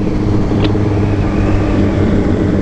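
Several sport motorcycles, a Yamaha MT-09, a Honda CBR1000RR and a Yamaha R6, run in second gear on a straight, giving a loud, steady engine roar that fills the clip with no voices.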